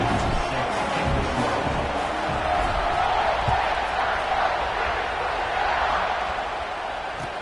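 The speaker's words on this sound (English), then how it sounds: "this crowd is buzzing after that last score" Football stadium crowd buzzing after a touchdown at an NCAA game, a dense, steady roar of many voices with faint whoops, continuous and loud throughout without a break.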